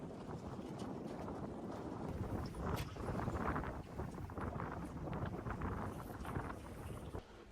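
Steady, loud wind buffeting the microphone aboard a Colvic Watson sailboat under sail, a continuous broadband roar with gusty swells and faint water rushing beneath, no voices.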